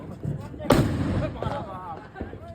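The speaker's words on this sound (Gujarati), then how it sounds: "બોમ્બ સીધો પડે આપણે આડો ફોડવાનો" A single sharp firecracker bang cracks out close by during a Diwali firecracker fight, followed by a brief rumble while people talk and shout around it.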